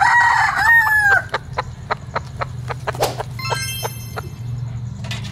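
A claret gamefowl rooster crows loudly up close, followed by a string of soft rhythmic clucks and another high crowing call near the end.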